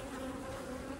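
Honey bees buzzing in a steady, close, continuous hum during a sugar-roll mite check, with no voices.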